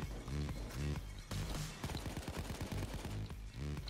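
Gunshots in the heist shooter Payday 2, quick rattling bursts of close fire repeating in short clusters, over a pulsing game soundtrack.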